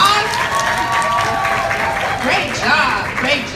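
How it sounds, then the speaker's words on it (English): Audience applause and cheering follow a student performance at a Dr. Seuss Day school event, a steady close wash of clapping with voices and whoops rising over it throughout. "All right, let's give Michael Parks a huge round of applause."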